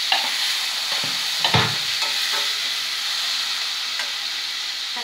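Tomatoes are tipped into a pan of softened frying onions, giving a few dull thuds and stirring scrapes over a loud, continuous sizzle and hiss, close up.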